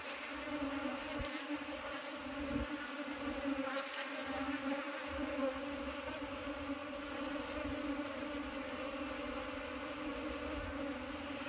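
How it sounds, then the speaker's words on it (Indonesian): Apis cerana bees crowd around their queen during a colony transfer, a continuous close humming buzz that stays steady and fairly loud throughout, with a few nearer passes early on. "untuk sang ratu berada di dalam, dikerumuni oleh lebah"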